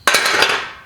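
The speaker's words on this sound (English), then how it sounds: "put it in the vise, and take a hammer and a punch to get that link out" Hammer striking a punch to knock out a mini bike chain link held in a vise, one sharp metallic ringing impact with a short decaying ring.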